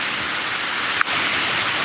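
Rain from Tropical Storm Idalia hisses down steadily on surfaces outdoors, a close, even wash of drops with one brief sharp knock midway.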